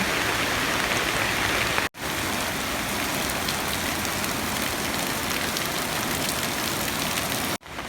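Heavy rain pours onto a street in front of a house near a technical college during a day of flooding, a dense, steady hiss that stops abruptly twice with a low engine idling underneath and no talking.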